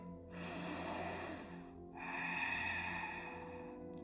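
Slow, deep breaths during a morning yoga session, each a long airy rush lasting over a second, heard close and alone with a brief pause between them.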